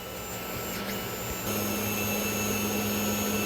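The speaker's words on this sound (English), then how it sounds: "it's still printing very well" 3D printer laying down a first layer in a cold, unheated garage, a steady mechanical whir and fan hum with stepper tones that shift and grow a little louder partway through, no voices.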